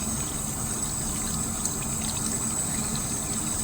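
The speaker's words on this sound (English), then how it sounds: "Like wash my hands" Hands being washed under running water, a steady close rush of flowing water with no pauses.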